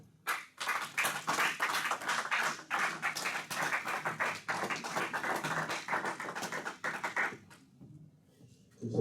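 A church congregation claps loudly and steadily for several seconds, dense rhythmic applause with voices mixed in, thinning out near the end.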